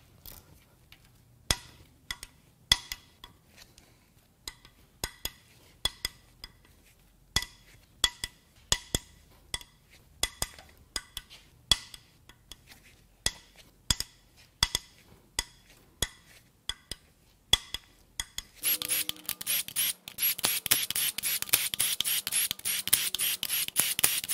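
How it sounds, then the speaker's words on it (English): A ratchet clicks in quick, uneven bursts while loosening cam cap bolts on a blown Acura Integra B18B1 engine during a teardown, with sharp close metallic ticks and a harsher rush of noise near the end. "Now it's time to crack the cam caps loose."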